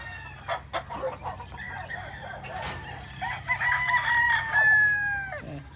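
White Kelso gamefowl roosters crow repeatedly at a gamefowl farm in Batangas, several loud overlapping cock-a-doodle-doos near and farther off, with hens clucking among them and no talking.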